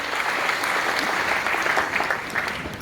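Audience at a book contest in Kinshasa applauds in a continuous, fairly loud crowd clapping that holds steady throughout, with faint voices mixed in.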